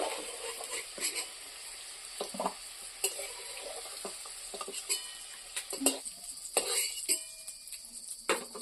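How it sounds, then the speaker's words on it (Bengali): Potatoes frying in oil in a pan, a steady hissing sizzle with occasional clinks and stirring scrapes on top, close and soft. "দেখুন বন্ধুরা, আমি লাল লাল করে আলু ভেজে নিয়েছি, এখন আমি তুলে নেব।"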